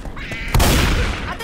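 A single heavy gunshot booms in the Left 4 Dead video game, a sharp blast after a moment of quieter game noise, then a rumbling decay.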